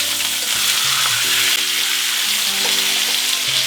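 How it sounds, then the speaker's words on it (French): Steaks frying in a pan for Café de Paris butter, a steady close sizzle and crackle running without pause under faint low hum and kitchen noise, with no talking. "Les steaks retournent."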